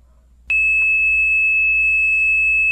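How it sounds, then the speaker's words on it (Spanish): Multimeter continuity-test beep on an electronics bench, one steady high tone that starts abruptly and holds loud and unbroken for over two seconds, with nobody speaking. "Y emite el pitido."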